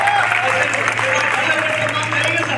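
Audience at a lively RCM business meeting in Ghazipur clapping together, a steady, dense applause that is loud and close and holds throughout, with a faint low hum underneath.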